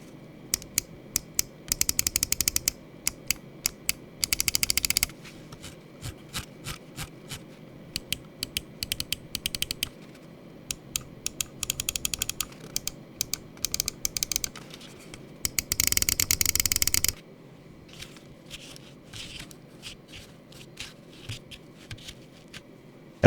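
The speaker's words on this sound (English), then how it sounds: "let's go ahead and drop the click and build quality sound check." Button clicks from a budget Projects Gaming Sleeper mouse, premium-built, come in dense rapid bursts of sharp near clicks with brief gaps, some runs fast and continuous, with no talk.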